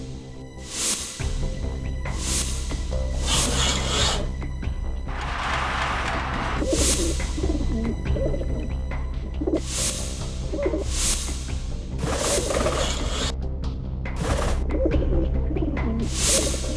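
Pigeons coo again and again, mixed with bird calls and occasional sharp clatters over a steady low background hum.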